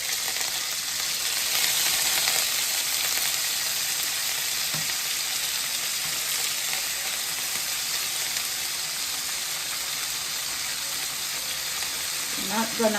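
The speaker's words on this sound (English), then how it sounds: "Hear that sizzle?" Shrimp frying in a pan for Jamaican-style fried rice, giving a steady, close broadband sizzle that holds loud throughout, with a few faint clinks near the end.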